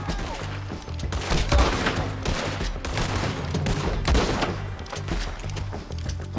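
Rapid gunfire crackles through a Red Dead Redemption 2 shootout, a dense, sustained volley of overlapping shots near and far, with a few heavier booms standing out.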